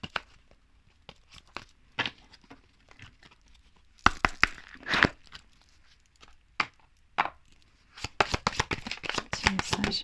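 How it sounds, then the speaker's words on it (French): Oracle cards are shuffled in bursts, giving crisp riffling and flapping paper sounds, close and fairly loud, separated by quiet pauses with scattered taps. "pour terminer, on va prendre une carte de l'oracle des amoureux"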